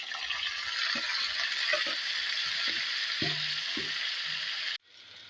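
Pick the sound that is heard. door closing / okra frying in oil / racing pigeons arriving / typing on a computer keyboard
okra frying in oil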